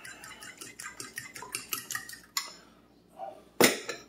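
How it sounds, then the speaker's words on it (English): Eggs beaten by hand in a bowl for apple banana muffins, a quick run of light clinking taps against the bowl, then a pause and a couple of louder clatters near the end. "right now I just want to beat up these eggs a little bit"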